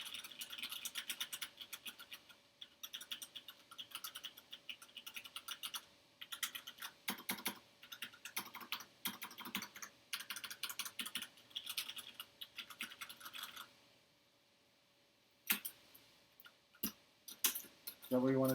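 Rapid typing on a mechanical keyboard fitted with linear red switches, a dense run of clacking keystrokes with brief pauses and a few louder isolated key presses near the end, close up.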